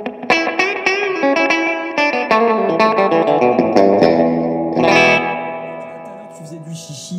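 An electric guitar is played through spring reverb, with plucked notes and chords trailing into splashy, metallic echoes at fairly loud, close range. No one speaks.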